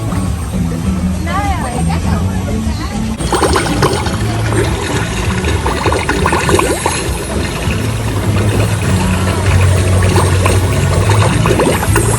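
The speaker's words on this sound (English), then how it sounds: "take a walk through the Moana water feature because it'll be a way to cool down on this hot day" Water runs and splashes steadily at the Moana water feature in EPCOT on a hot day, a loud continuous wash with a voice talking over it.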